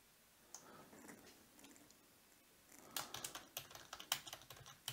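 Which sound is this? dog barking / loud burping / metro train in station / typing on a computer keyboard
typing on a computer keyboard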